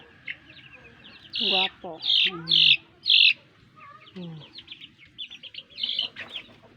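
Chinese and native crossbreed chickens cluck and call in a few loud, close bursts while someone speaks briefly between them.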